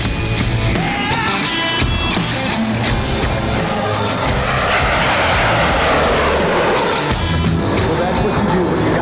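The engine of a Yak 110 aerobatic airplane roars loud and continuously during an upright flat spin at an air show, its pitch wavering as the aircraft rotates, with a commentator talking over it.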